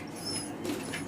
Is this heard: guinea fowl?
no